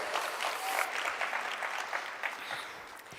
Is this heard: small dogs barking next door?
no